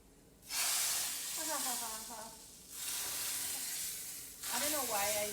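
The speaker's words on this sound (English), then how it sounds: "I don't like burning the garlic also, so just lightly toast it" Garlic and cumin sizzle and hiss as they toast in hot oil, a steady frying crackle in broad bursts, while a person talks over it in between.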